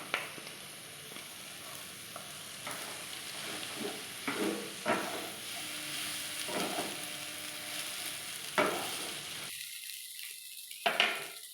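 Quiet sizzle of boiled pasta with chopped chilli and tomato being tossed in a hot pan, broken by several scraping stirs and clunks, then dropping out briefly near the end.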